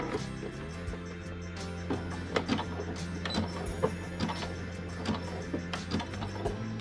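A sewing machine runs a plain straight seam on a small crossbody bag made of cord, a close, quiet, steady hum with faint regular ticking from the needle.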